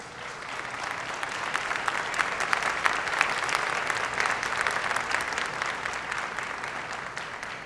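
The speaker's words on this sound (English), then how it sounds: "go ahead and applaud yourself right now." An indoor community college audience applauding at a presidential speech, with dense, steady clapping from many hands that holds at an even level throughout.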